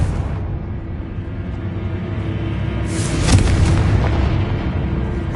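A Confringo fire-blast spell from Hogwarts Legacy erupts partway through as a single booming explosion with a bright crackling burst, rising over a low rumbling background and then settling back.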